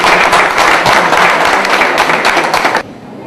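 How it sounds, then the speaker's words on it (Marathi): A crowd gives loud, sustained applause, thick continuous clapping near the listener that cuts off abruptly just before the end. "जोरदार टाळ्या वाजत राहतो."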